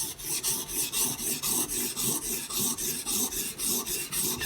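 A Benchmade Bushcrafter 162 knife is drawn over Hapstone sharpening stones in steady, even rasping strokes, roughly three per second, close and clear with no talking.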